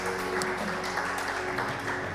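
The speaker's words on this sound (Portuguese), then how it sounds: "libere o som de glória e aplauda ao Rei dos Reis, aplauda ao Senhor dos Senhores" Church congregation clapping in praise during a sermon, a dense continuous patter of many hands at moderate level, with a faint steady tonal hum beneath and no speech.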